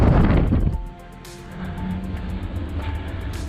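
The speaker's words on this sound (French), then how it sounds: "il va y avoir un petit peu de vent parce qu'il y a la sortie d'air" Steady rushing air noise from a mine's air vent outlet, fairly loud and broadband, with a low rumble and a brief louder gust at the start.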